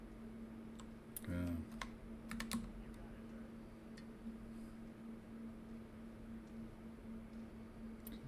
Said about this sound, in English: Sometimes I don't get my keystrokes right